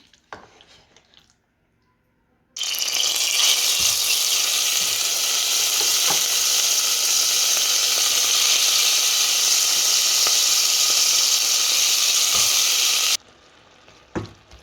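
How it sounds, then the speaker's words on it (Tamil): Mutton pieces deep-frying in hot oil over medium heat, a loud, dense, continuous sizzle and hiss that starts suddenly and holds steady before cutting off, with quieter kitchen sounds around it. "இப்போ எண்ணெய் சூடாகிட்டதை அளவான ஹீட்டில் வச்சுட்டு நாங்கள் ரச்சியை பொரிச்செடுப்போம்"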